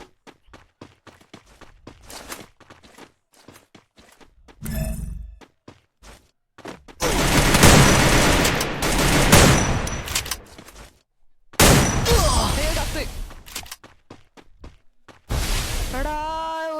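Shotgun blasts and gunfire in the mobile game Free Fire, sharp loud bursts in between clicky menu and footstep sounds, with a player talking in the background.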